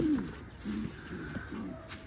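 Caged pigeons coo in a low, throaty run of three or four soft, rhythmic pulses, fairly close and moderately quiet.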